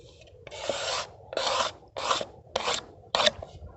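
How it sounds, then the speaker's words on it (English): A straight blade scrapes stubborn bits off a surface under hard downward pressure, in five rasping strokes with short pauses between them, close and clear. "as long as that blade's straight, get any stubborn bits off. Ooh, excessive scraping."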